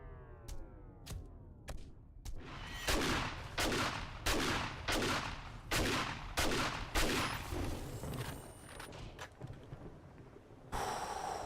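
Gunfire rings out from a player's guns in the zombie survival game 7 Days to Die: a few sharp single shots, then a rapid run of about ten loud, evenly spaced blasts, trailing off into scattered reports and a final burst.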